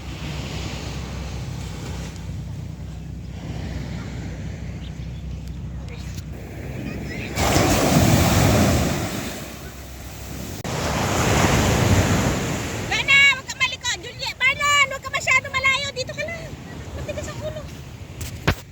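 Sea waves wash onto a beach in slow surges amid gusty wind noise, with people talking and high bleating-like calls near the end.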